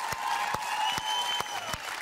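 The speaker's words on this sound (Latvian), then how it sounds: "Aplausiem skanot" Studio audience applause on the Latvian TV evening talk show Vakars ar Renāru Zeltiņu, a brief burst of dense, steady clapping with no voices over it.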